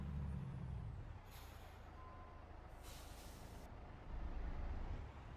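A heavy truck in a truck-driving video game releases two sharp hissing bursts of air brake over a constant low engine rumble, the second longer than the first.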